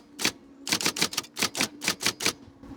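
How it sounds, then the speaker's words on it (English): Battery-powered IBM Selectric electric typewriter typing in bursts, a rapid run of sharp keystrokes with short pauses between groups, close and loud with no talking. "I could even do typing while I walk."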